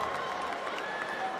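Steady crowd noise fills a volleyball arena during a CEV Champions League match between Fenerbahce Opet and VakifBank in Istanbul, a dense, continuous murmur with scattered clapping and indistinct voices throughout.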